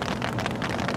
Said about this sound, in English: And the rain's picking back up again.